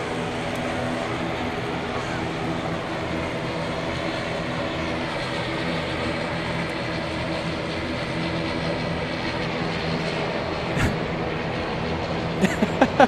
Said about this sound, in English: This is Bra Airways, flight 267. Coming in from Linz.